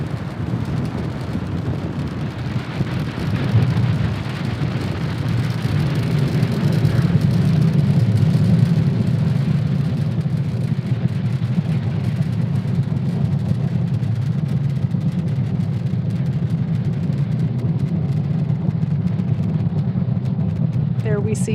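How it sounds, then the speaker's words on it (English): A SpaceX Falcon 9 rocket lifts off from Cape Canaveral Space Force Station carrying Starlink satellites, its steady, loud low rumble and roar holding for the whole stretch, with launch commentary faintly under it. "Falcon 9 has successfully lifted off from Cape Canaveral Space Force Station"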